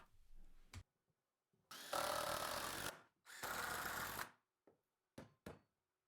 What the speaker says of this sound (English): pre-drill and then insert 3-inch long wood screws on each end